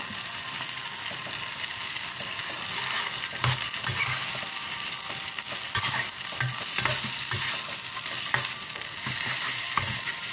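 Plain homestyle noodles stir-fried in a pan, a loud continuous sizzle with rhythmic clattering scrapes and tosses of the utensil close by, no voices.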